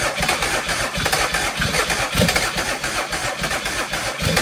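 A turbo diesel Mercedes OM603 engine fitted in an SL380 cranks and catches, then runs with a rough, loud, uneven chugging throughout, close and with no talk.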